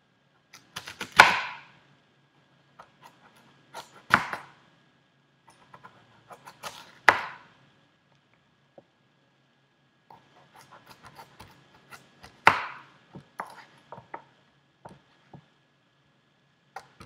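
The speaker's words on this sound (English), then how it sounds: "When you're done cutting your wedges, place them in a bowl" A knife cutting an unpeeled sweet potato into wedges, with sharp, close thunks on the cutting board spaced a few seconds apart and scattered lighter taps between, otherwise quiet and without talk.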